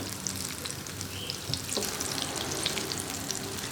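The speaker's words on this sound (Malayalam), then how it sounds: "ഒരു 3-4 ബാച്ചായിട്ട് നമുക്ക് ഫ്രൈ ചെയ്തെടുക്കാൻ പറ്റുള്ളൂ." Goli baji snacks frying in hot oil in a small pan, giving a steady dense crackling sizzle with fine popping bubbles, close and continuous, with a faint stir or clink partway through.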